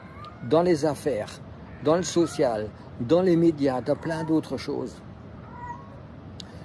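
A cat meows several times in close succession beneath a man's continuous speech in French, the cries loud and overlapping the talking.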